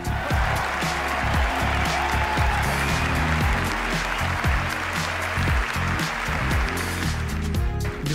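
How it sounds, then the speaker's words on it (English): Applause for performances at a virtual variety show, steady clapping throughout with a repeating musical backing underneath it. "a round of applause for everyone for those very astonishing performances"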